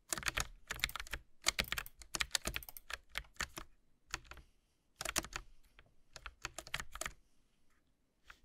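Fingers type on a Logitech mechanical mini keyboard in close, crisp bursts of rapid key clicks, separated by short pauses, with no talking.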